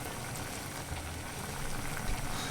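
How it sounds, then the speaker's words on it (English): Greengage and plum jam fruit coming to the boil in a pan, giving a steady low bubbling hiss with occasional soft pops, close and fairly quiet, with no talking. "fruits coming to the boil now"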